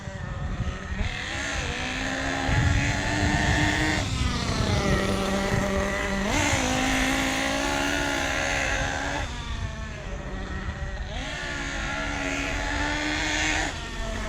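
A Losi 8T nitro RC truck engine buzzes loudly during break-in with its mixture leaned out, its pitch rising and falling in several repeated revving sweeps.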